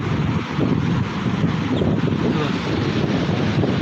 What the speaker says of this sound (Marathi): जेव्हा मोठी लाट येते ती पूर्णता येते